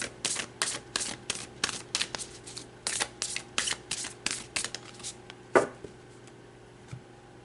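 Tarot cards being shuffled in a steady run of quick, crisp riffling bursts about twice a second, close and clear, ending with a single louder tap and a faint knock.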